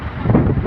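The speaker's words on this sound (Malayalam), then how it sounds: "നല്ല കാറ്റുമുണ്ട്." Wind gusting steadily at the seashore of Dhanushkodi near Rameshwaram, a loud broadband rush buffeting the microphone throughout with no talk.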